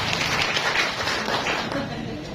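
An audience at a BKKBN East Java event applauds, giving dense, steady clapping that fills the whole moment and eases slightly toward the end.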